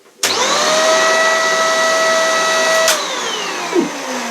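A vacuum cleaner with a lift-away mode starts abruptly and runs loud and steady with a high whine, then drops in pitch around three seconds as it shifts to reduced suction, with a brief knock near the end.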